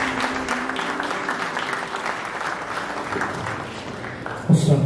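A church congregation at a funeral service applauds steadily and loudly, dense clapping filling the room for several seconds with a few scattered voices underneath.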